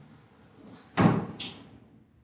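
A small door in a luxury villa's home cinema in Loulé, Algarve is opened with one sharp, fairly loud clunk, followed by a brief lighter knock as it swings, set against quiet room tone.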